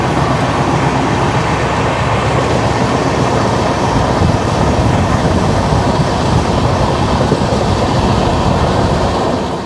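A Kumbha Express passenger train from Howrah to Haridwar rumbles steadily along the rails, its loud, continuous roar and faint rhythmic clatter heard from inside the carriage with no talking.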